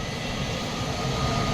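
Vistara or Air India airliner slowly gathering speed on its takeoff run at Mumbai airport, a steady broad jet-engine roar holding constant and close throughout, with no voices.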